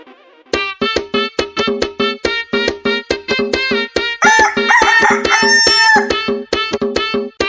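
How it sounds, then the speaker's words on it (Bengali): Chickens cluck and a rooster crows loudly in a steady run of sharp, repeated calls, with a fuller burst of crowing in the middle, close by and without any talk. "আমার মুরগিগুলোকে নিয়ে গেল মা গো"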